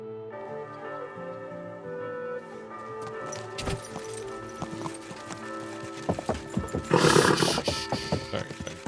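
Clip-clopping horse hooves in a video game with occasional whinnies over layered game music, the hoofbeats growing louder and busier near the end.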